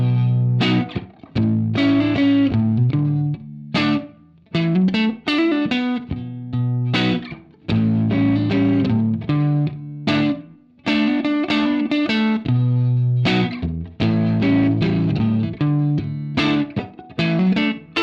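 Electric guitar through Guitar Rig 5 Pro amp simulator with compressor, delay and reverb, heavily processed, distorted chords and rhythmic strums ringing out, loud and up front.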